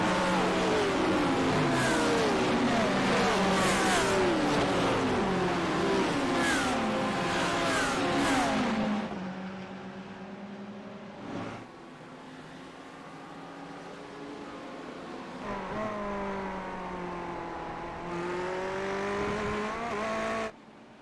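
A field of GT3 race cars roars away at the start of a Sebring race in a racing video game, loud layered engines revving and shifting up together, then thinning to fewer cars with one engine climbing again near the end.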